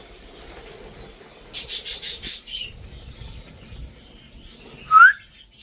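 Budgerigars in an aviary, with a burst of wing flaps from birds taking flight in the middle and a single sharp chirp near the end, over low background noise.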